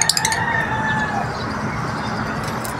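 Birds gather at a morning feeding spot by a pigeon loft, with a rooster crowing and fowl clucking nearby over a steady rustling background; no one talks.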